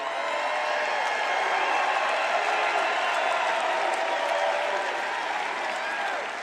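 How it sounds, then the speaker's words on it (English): Dense crowd applause at a political rally, sustained loud clapping from many hands spread wide and steady throughout, tapering slightly at the end. "I don't think I've ever introduced anyone that got applause like he just got"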